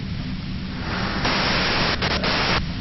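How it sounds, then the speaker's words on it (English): Radio-style white noise static hisses in the detective game Disco Elysium, a loud, dense, steady wash that swells partway through and then stutters with a few short dropouts near the end. "you can do it through the white noise."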